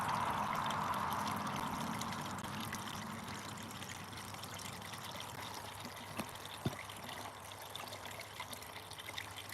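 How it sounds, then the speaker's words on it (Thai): Distant waterfall flowing steadily in an outdoor setting, a soft continuous rush of water that stays even throughout. "ก็จะมีน้ำตกไหลลิบๆอยู่ตรงนั้นเนาะ"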